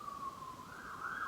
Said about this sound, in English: I could hear an ambulance nearby